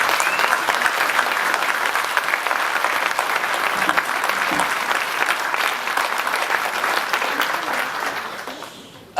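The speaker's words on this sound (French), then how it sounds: "je vous propose d'applaudir, de tous applaudir" An audience at a mayor's New Year speech in Gisors applauds as a young man is invited on stage, with sustained loud clapping that fades toward the end.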